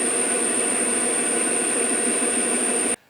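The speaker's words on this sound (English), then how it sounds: "So first we will center drill it." A lathe center drills a steel workpiece, a steady close mechanical hum with a thin high whine running unchanged for about three seconds before cutting off abruptly.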